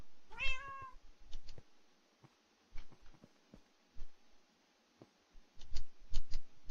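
A kitten in the TPPI video game gives a single clear, high meow near the start, followed by scattered soft clicks and taps in a quiet background.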